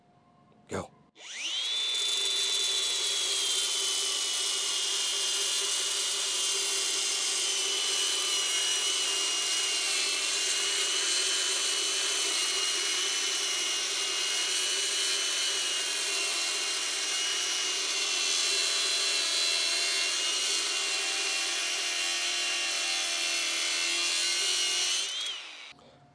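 Steady, loud, high-pitched whine and grind as a saw with a Diablo metal-cutting blade cuts through rebar, running continuously for about 25 seconds after a short start click, then stopping.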